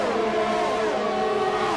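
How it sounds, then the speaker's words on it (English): Race car engine in Gran Turismo, a loud buzzing high-revving note with layered harmonics sliding in pitch, sounding ragged as it sputters. "And somebody's engine is sputtering out."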